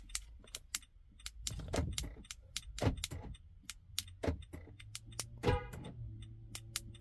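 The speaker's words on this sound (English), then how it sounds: "show you the door lock." Metallic clicks and jangling keys sound in irregular bursts, with a sharper clunk near the end, as a key works the door lock of a 2013 Nissan Pathfinder close by.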